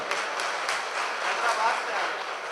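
A crowd at an Urdu poetry mushaira in Mian Channu, Pakistan, in 2024 claps steadily in a thick wash of applause while a voice speaks over it.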